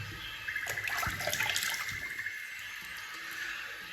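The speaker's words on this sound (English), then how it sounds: "Please give me the opportunity to put some clean water in my basin." Clean water runs from a tap into a basin, a close, continuous splashing rush that swells and then settles into a softer trickle, with no talking.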